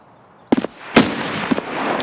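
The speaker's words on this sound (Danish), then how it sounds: "Øj, et skud." Gunfire in the video game Escape From Tarkov: three sharp reports in quick succession, loud and close, with a low ambient rumble between them.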